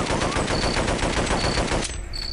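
Rapid automatic gunfire from a weapon in the video game They Hunger rattles loudly and continuously for almost two seconds, then cuts off, leaving quieter game ambience.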